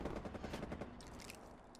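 Rapid shotgun blasts ring out in a fast-paced shooter video game, a dense run of loud overlapping bursts that fade slightly toward the end, set against background game noise.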